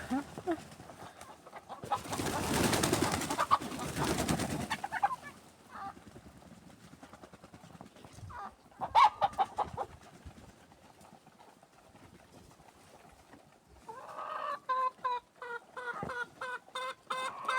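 Chickens out in unseasonal snow give scattered clucks and squawks, with a loud burst of flapping wings early on and a denser run of sharp, repeated calls toward the end.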